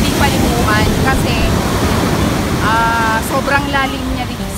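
Sea waves wash steadily against the shore in a continuous windy rush, with a person talking over the surf.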